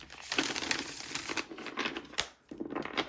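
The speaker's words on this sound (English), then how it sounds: "One more shuffle." A deck of tarot cards is shuffled close up, giving a continuous papery riffling and crinkling that runs for a few seconds, pauses briefly, then resumes, with no talking.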